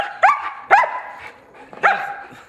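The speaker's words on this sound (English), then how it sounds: "that gibbering you hear, or that yipping you hear, is Maya." A dog yips and barks in short sharp bursts, three main yelps spaced apart, close by and fairly loud.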